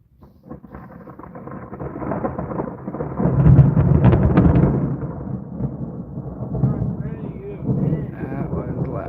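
A deep, rolling thunderclap during a monsoon storm swells and rumbles for several seconds over steady heavy rain, with a voice speaking briefly at the start.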